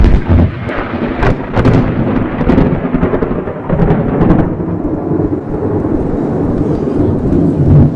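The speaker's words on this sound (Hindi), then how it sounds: "बस अवर्णनीय ध्वनि। यह एक तोपखाने की तरह है विस्फोट, केवल तेज और तेज फ्लैश।" Thunder from a nearby lightning strike during a storm, heard as a loud, continuous rumble with sharp cracking bursts in the first few seconds that settle into a steady roaring roll.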